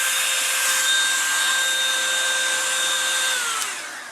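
A Revlon One Step hair dryer and styler brush runs with a steady, loud airy roar and a constant motor whine, then winds down near the end as it is switched off.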